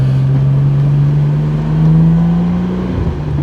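1994 Porsche 911 Turbo 3.6 idling high and revving gently while warming up, a loud, close, steady engine drone that swells slightly midway before settling, no voices.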